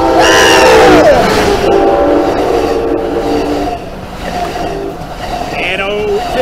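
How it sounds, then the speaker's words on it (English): Amtrak train hauling through Encinitas station, loud and close, with horn-like tonal blasts at the start and a steady rumble throughout, people talking and exclaiming over it. "We got a Amtrak 572 about to haul through here."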